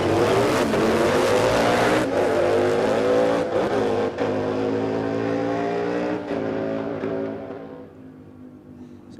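Harley-Davidson V-Rod drag motorcycle at a drag racing dragfest, its engine roaring loud and steady as it blasts down the quarter-mile strip, with a couple of sharp gear-change dips before the sound fades into the distance.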